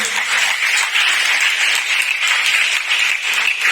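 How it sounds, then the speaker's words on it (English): Loud, sustained applause from a large crowd at a school Christmas celebration, dense clapping for the teachers that carries on evenly without pause. "can you give a huge applause for the teachers?"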